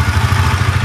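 A Husqvarna Vitpilen 250 motorcycle engine idles close by, a brief, steady low single-cylinder putter with even pulsing beats.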